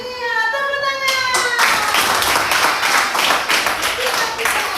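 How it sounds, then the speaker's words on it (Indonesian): A class claps hands together after a voice speaks at the start, the clapping steady and fairly loud for the remaining seconds. "Iya, tepuk tangan."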